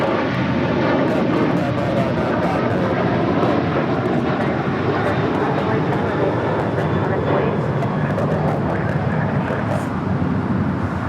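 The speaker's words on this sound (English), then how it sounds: "Next departure is Alaska Airlines Flight 6 heading to Reagan National" An Alaska Airlines Boeing 737-800 departing LAX for Reagan National, its engines producing a loud, sustained roar that fills the whole stretch, with a voice talking faintly beneath it.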